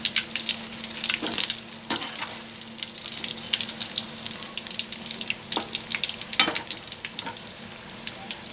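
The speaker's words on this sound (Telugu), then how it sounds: "మంచిగా కాలుతున్నాయి. కొంచెం మీడియంలో పెట్టుకోవాలి స్టవ్." Sweet batter for laddus fries in hot oil on a stove at medium heat, a dense, continuous close sizzle with occasional louder crackling bursts and faint water-like splashes; no speech.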